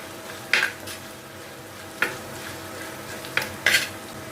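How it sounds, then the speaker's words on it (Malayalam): Spoon stirring spice powders such as turmeric into onions frying in a pan for fish curry, with a steady sizzle underneath and four sharp scraping clinks against the pan, close up and with no talking. "എന്നിട്ട് ഇളക്കി കൊണ്ട് കൊടുക്കാം."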